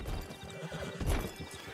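Horse hooves clip-clop beside a whinny in the Red Dead Redemption 2 video game, with uneven hoof thuds and a clear neigh that peaks midway, standing on their own with no talk over them.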